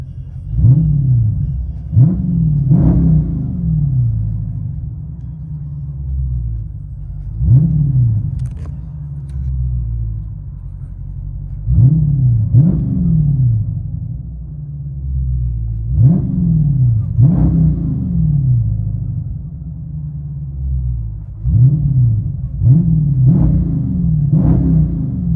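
Dodge Charger Scat Pack 6.4L HEMI V8 with AWE Track cat-back exhaust, heard from inside the cabin: a deep low rumble with repeated revving blips in clusters, loud and close, no talking.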